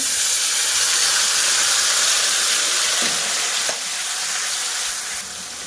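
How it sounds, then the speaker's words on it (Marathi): Red chilli spice paste for a drumstick curry sizzles loudly in hot oil with a steady frying hiss, a couple of stirring scrapes, then the sizzle settles a little quieter. "मसाला आपल्याला छान तेलामध्ये परतवून घ्यायचा आहे तळून घेऊया"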